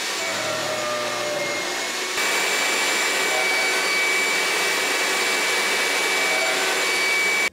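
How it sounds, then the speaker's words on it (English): A horizontal mortiser cutting end grain mortises in wood gives off a steady, loud motorized whine and roar, with a brief shift in tone as the cut begins. "I'm going to use my horizontal mortiser."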